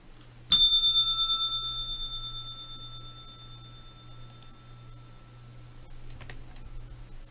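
A single bright bell strike marking the S&P 500 E-mini market session, ringing close and clear, then fading into a long shimmering tail over a faint steady hum.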